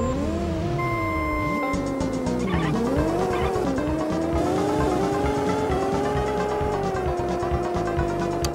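Engine whine and tire squeal from racing cars in the Super Nintendo game Stunt Race FX, a loud continuous synthesized motor tone rising and falling in pitch over game music, with a brief skid around the third second.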